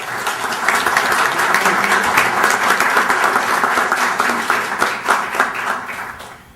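Audience at a legal book presentation applauding to welcome a speaker, a full, close burst of clapping that swells quickly, holds steady for several seconds and then fades out.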